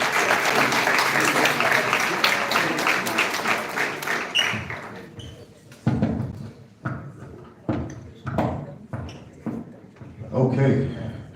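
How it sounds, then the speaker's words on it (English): Audience applause at a township board meeting for two men who just spoke, dense clapping for about four seconds that thins into scattered, separate claps and thuds as the crowd settles. "give a round of applause for the 2 gentlemen"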